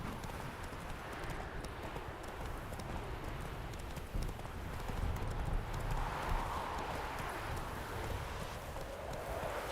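Hooves clip-clop steadily through a ride as a horse moves along at an even pace, the rhythmic beats fairly close under a broad rush of wind and outdoor noise, with a brief louder stretch midway.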